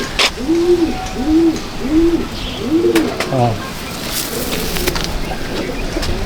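A Madrasi pigeon of the Mastan breed coos in a series of about five rolling, evenly spaced calls, close and clear, followed by quieter background murmur.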